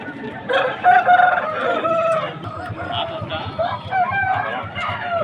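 A rooster crows loudly nearby amid clucking chickens at a rooster market in Vijayawada, with people talking over the birds throughout.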